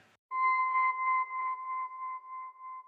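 A steady synth effect tone with a bright overtone, pulsing gently as it holds for a few seconds after a brief gap, like an electronic sonar-style effect.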